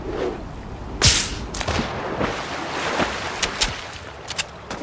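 River water in Fortnite Battle Royale splashes and sloshes around a moving player, with sharp splashy bursts and intermittent watery thumps over a steady rushing background, fairly close.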